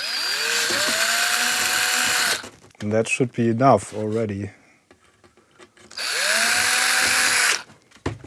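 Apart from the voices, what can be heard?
3mm drill drilling plastic case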